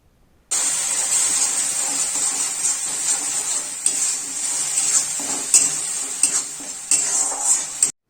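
Spice paste sautéing in a pan with salt and turmeric, a bright continuous sizzle that starts abruptly, with occasional scrapes and clinks of stirring, close and clear, no talk.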